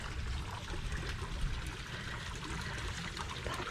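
Heavy rain pours down in a back garden near a fish pond, a dense, steady hiss of water with no voices.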